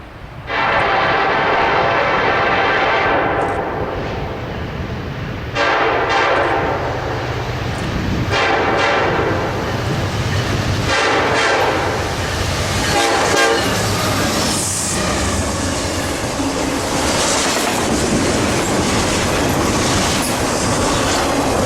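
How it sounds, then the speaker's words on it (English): A Kansas City Southern intermodal freight train led by an EMD SD70ACE locomotive speeds through Calhoun, a loud continuous rumble of rolling wagons and rail clatter with repeated horn-like bursts, close and sustained throughout. "KCS Intermodal IDAAT2 speeds through Calhoun with a KCS EMD SD70 ACE leading the charge"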